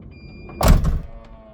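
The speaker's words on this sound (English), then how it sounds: "we have electric door, which if I just look round and push the button, we can close the door." The electric sliding side door of a Volkswagen Autosleeper Trooper camper van shuts with one loud, close thunk, preceded by a soft motor whir and followed by a brief quiet rattle.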